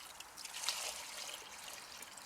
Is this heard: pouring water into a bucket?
yes